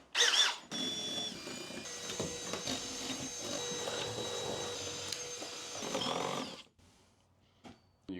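A drill bores a tiny pilot hole during garden office wiring work, giving a close, whining motor drone that runs for about five seconds and then stops abruptly.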